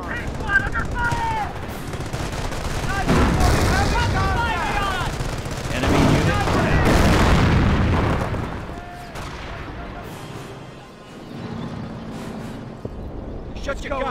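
Rapid machine-gun bursts and heavy booms of battle from Company of Heroes, loud and continuous, with in-game soldier voices calling out over the shooting.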